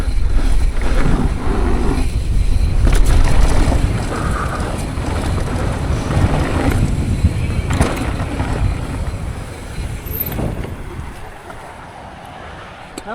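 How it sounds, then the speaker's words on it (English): Gusty wind roars and buffets the microphone throughout a downhill mountain bike ride on a World Cup DH bike, loud and close, easing toward the end. "That wind's still too gusty."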